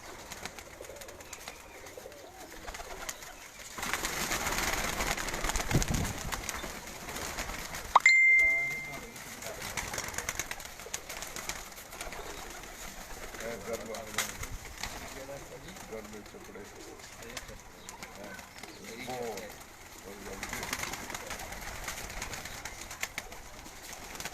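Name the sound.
pearl-spotted pigeons cooing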